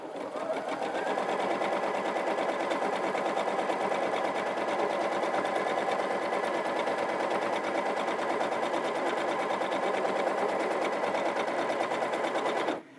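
Baby Lock Allegro sewing machine running continuously for free-motion quilting, a fast, even mechanical whir and needle chatter sustained for the full length before cutting off at the end, close and loud.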